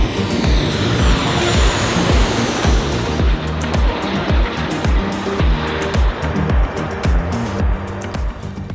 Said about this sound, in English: hang around the Anchorage International Airport to watch airplanes do their thing